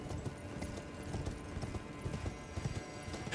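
Rapid galloping hooves pound steadily at close range, a continuous rhythmic thudding with no talking, in Elden Ring Shadow of the Erdtree.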